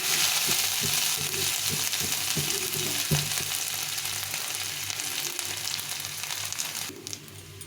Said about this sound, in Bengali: তেলটা গরম হয়ে গেছে শুকনো লঙ্কা এই জিরে আর সামান্য একটু পাঁচফোড়ন দিয়ে দেবো